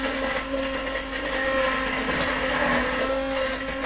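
Kitchen blender whirring through a creamy sauce for vegetables, a loud, continuous motor hum with a steady pitch that holds for the whole stretch, no voices over it.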